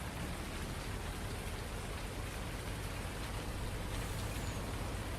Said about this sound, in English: And for how hard it's raining, it might fill up with water that way.